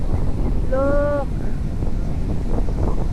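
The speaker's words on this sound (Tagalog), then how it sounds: "Sobrang mahangin dito guys ha." Strong wind roars against the microphone on an island beach, a steady loud rushing blast, with a brief voice heard in the middle.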